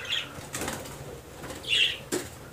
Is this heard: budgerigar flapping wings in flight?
yes